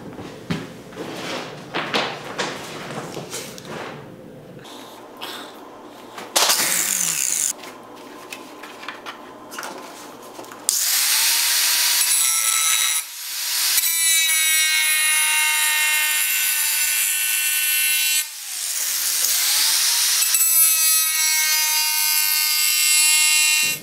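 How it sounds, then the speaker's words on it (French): A power tool cuts ceramic tile, first with scattered scraping and handling noises, then a loud, sustained high whine and grinding that runs continuously, close by, with a brief dip midway and no talking. "Ça va éviter de trop maganer notre céramique quand on va la couper."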